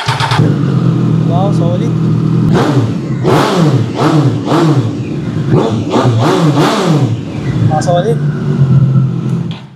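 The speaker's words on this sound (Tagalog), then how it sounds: "soundcheck natin yung SC Project exhaust kung gaano kaganda yung tunog" A motorcycle fitted with an SC Project exhaust revs repeatedly, each blip rising and falling loudly up close, with a man briefly exclaiming in approval between the revs.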